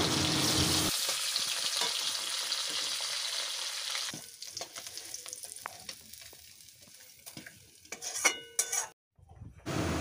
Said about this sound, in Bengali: এবার বাকি মাছগুলো তুলে দিলাম। তুলে এরকম হালকা করে ভেজে নামিয়ে নেব।